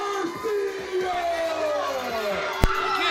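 A wrestling crowd at an independent show at the Falling Leaves Festival in Salamanca, New York, applauds and cheers after a submission victory. Steady, dense crowd noise runs throughout under a commentator's voice, with a sharp bang near the end.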